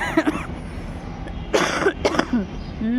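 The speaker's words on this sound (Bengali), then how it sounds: "আমার হয়েছে কাশি" A person coughs close by in a few short, harsh bursts spread across a quiet rooftop setting, with faint background noise between the coughs.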